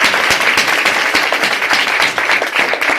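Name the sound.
church congregation applauding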